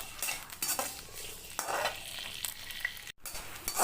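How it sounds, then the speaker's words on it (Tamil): Adamant creeper (pirandai) sautéing in sesame oil: a soft continuous sizzle broken by repeated scraping strokes of a spoon against the pan, close and steady. "நல்லெண்ணெய் குத்திட்டு இந்த பிரண்டியை வந்து நல்லா வதக்கணும்."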